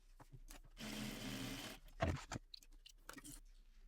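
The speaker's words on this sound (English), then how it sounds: "we're going to sew using a 1/4 inch seam allowance across the top and across the bottom of both of these." A home sewing machine runs a short burst stitching a quarter-inch seam on a bag, a steady close mechanical whir lasting about a second, followed by soft fabric handling and clicks.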